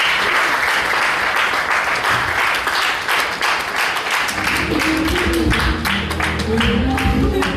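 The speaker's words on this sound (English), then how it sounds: "A big round of applause once more." Audience applause at a breast cancer management symposium in Nigeria after a talk ends, a sustained, loud burst of many hands clapping that carries steadily throughout.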